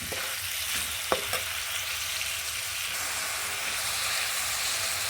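Ground spices with ginger, chili powder and cumin sizzle and fry in oil in a pan, a steady bright hiss with a couple of sharp stirring clinks.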